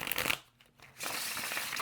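Gold foil tarot cards are shuffled up close, bursts of crisp papery riffling that briefly pause in the middle and then resume, with no talking.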